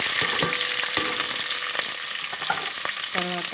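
Onions, cumin and green chillies frying in hot oil in a pot, a steady loud sizzle with stirring clatters and brief utensil knocks throughout, no talking.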